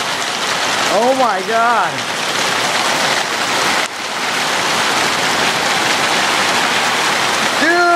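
Hail pelts down outside during a storm in Thornton, a dense, loud, continuous roar of impacts, while excited voices shout over it.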